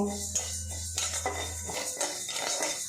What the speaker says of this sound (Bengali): ডালটা অনবরত নাড়াচাড়া করে ভেজে নেব।